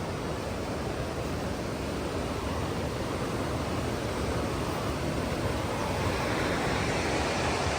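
A mountain river in Lahaul's Thanpattan valley rushes steadily beside a trekking path, a dense, constant broadband roar with no breaks, close and fairly loud, carrying on alone without any voices.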